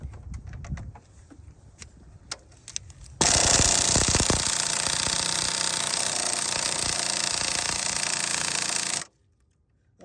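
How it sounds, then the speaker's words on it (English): A pneumatic air impact gun hammers at an 18 mm engine mount bolt on a 2017 Nissan Altima 2.5 L four-cylinder, a loud continuous rattling burst of about six seconds after brief workshop clatter, then stopping abruptly. "let's see if this speed air has enough to remove that"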